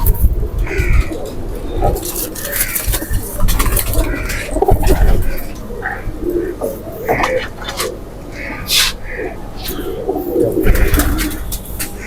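Golden pigeons coo steadily in a low, throaty rhythm, with scattered chirps and rustling of birds close by.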